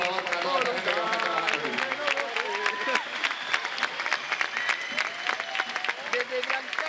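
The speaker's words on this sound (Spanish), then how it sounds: "les quería pedir un gran aplauso para todo este staff que está de azul" An audience at a large LAN party event in Gran Canaria applauds staff and volunteers, dense sustained clapping filling the hall while a host talks over it.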